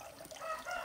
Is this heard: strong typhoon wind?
no